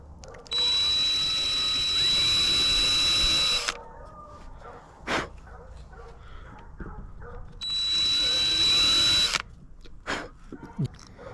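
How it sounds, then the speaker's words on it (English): A power drill whirs in two sustained bursts of a few seconds each while drilling into a scrap-wood jar, separated by quieter clicks and handling noises. "we're going to take the drill bit"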